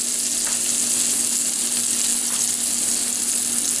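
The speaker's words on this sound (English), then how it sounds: "The steak goes right in the pan." A bone-in strip steak sizzles steadily in extra virgin olive oil in a heavy steel pan, a loud, continuous close frying hiss with no voices.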